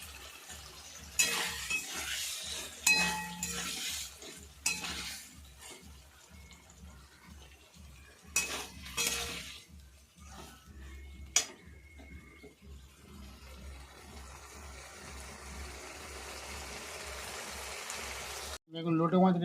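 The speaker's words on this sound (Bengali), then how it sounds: "সঙ্গে লোটে মাছটাকে দিয়ে হালকা করে নেড়ে দেবো।" Bombay duck (lote) fish is stirred gently in a pan, making soft scraping strokes over a low sizzle, while a voice speaks at times.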